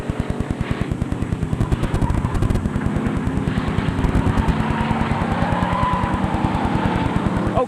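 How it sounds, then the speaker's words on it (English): Race cars on a track, engines droning past with tires squealing and a rough pulsing exhaust note that swells and fades, loud and sustained throughout. "a real race going on here"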